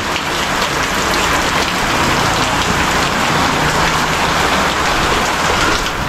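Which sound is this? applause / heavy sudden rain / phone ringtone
heavy sudden rain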